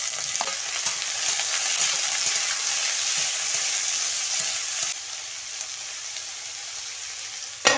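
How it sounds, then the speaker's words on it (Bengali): Onions with dried chillies and whole spices frying in a pan, a steady bright sizzle close by with a few light stirring scrapes, easing slightly toward the end before a brief clatter. "শুকনো লঙ্কা 5 ফোড়ন নাড়া নাড়া হয়ে গেলে পেঁয়াজ দিলাম। ভাজা ভাজা হয়ে গেছে"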